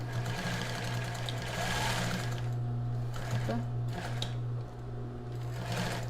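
A sewing machine stitches a plus-size bra with a wide strap, its steady motor whir and stitch rattle running beneath quiet talk, pausing briefly mid-seam before starting again.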